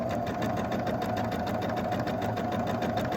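A sewing machine stitching a quilt block runs in a steady, even whir, close and continuous for the whole stretch, with no voices over it.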